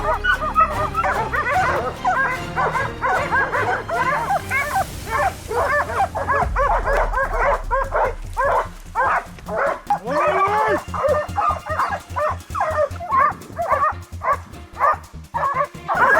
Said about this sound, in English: our hunting dogs relentlessly followed every trace